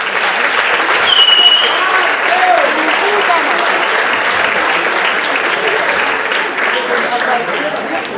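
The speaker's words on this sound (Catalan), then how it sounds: "vos demanem un gran aplaudiment per a tots ells" Loud, sustained audience applause at a school graduation for the tutors, a thick wash of many hands clapping close by, with faint voices and a few cheers rising through it.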